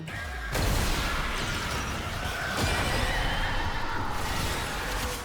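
A horse whinnies loudly amid dense Warframe game noise, with sharp crashing impacts and a busy, layered background throughout.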